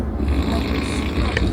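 A person snoring aboard an overnight train, a low, rough, rasping breath held close and loud over steady rumble from the carriage.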